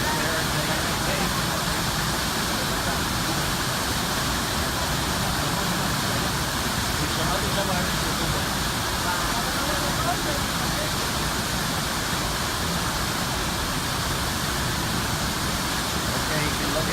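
The waterfall at La Paz Waterfall Gardens in Costa Rica gives a steady, broad roar of falling water, loud and unbroken throughout with no change.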